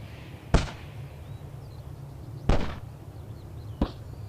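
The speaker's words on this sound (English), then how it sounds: "The sound of small explosions cuts through the silence of the moors." Three small, sharp popping bursts on moss-covered moorland, spaced a couple of seconds apart against a quiet outdoor background, each a crisp near crack with a short fade.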